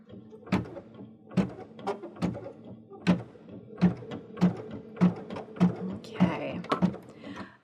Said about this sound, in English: It's going to embroider fairly slowly so that the machine has a chance to pull up all that beautiful bobbin thread